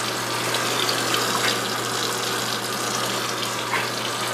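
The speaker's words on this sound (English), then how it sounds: "So I'm going to rinse off the teaspoon and wait till my water gets extra warm." Hot water running from a kitchen tap into a bowl, a steady continuous splashing rush that stays even throughout, close and fairly loud with no talking.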